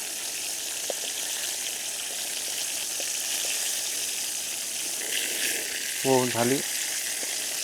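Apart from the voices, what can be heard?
food frying in oil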